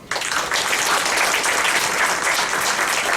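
An audience applauds after a university lecture on teaching methods, a loud, dense wash of clapping that begins abruptly and continues steadily throughout.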